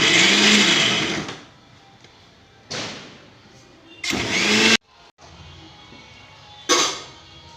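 A kitchen mixer grinder is pulsed on onions for a coarse grind: four short, loud whirring bursts separated by quiet gaps, with a dull thump between runs and no talking.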